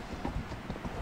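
Horses walking home along a trail after dark, their hooves clip-clopping in an uneven, overlapping rhythm, fairly close but soft.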